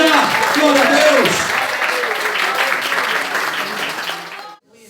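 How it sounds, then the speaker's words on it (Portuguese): Church congregation applauding during a service, a dense, loud wash of clapping with voices mixed in, sustained for several seconds before cutting off abruptly near the end. "Você pode aplaudir o Senhor."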